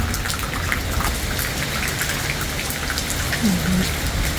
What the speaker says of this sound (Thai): บรรยากาศยามฝนตกนะคะ